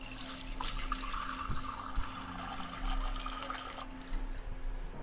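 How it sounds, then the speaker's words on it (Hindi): Water poured from a glass into a pressure cooker holding rice in a home kitchen, a steady close pouring and splashing that runs for about five seconds with no talk. "पानी डालेंगे।"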